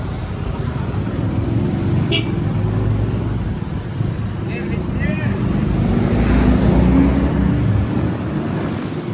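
Road traffic rumbles continuously near Kaliguan Port, with passing engines and low road noise beneath scattered voices talking.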